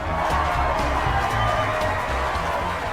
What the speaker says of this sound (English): that virtual applause does more for me every single time I hear it